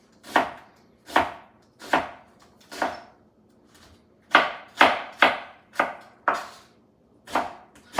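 A knife slices vegetables thin on a cutting board for a wok stir-fry, about a dozen crisp, distinct chops in an uneven rhythm, close and clear with nothing else audible.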